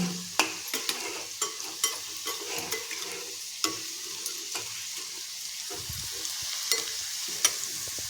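Bitter gourd and onion stir-fried with jaggery in a pan, a steady close sizzle with repeated light spatula scrapes and taps.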